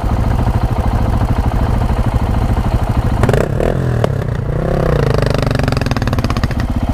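KTM 690 motorcycle ploughing through soft desert sand in Death Valley, the loud single-cylinder engine pulsing and revving hard up close with scraping and clattering as the bike struggles.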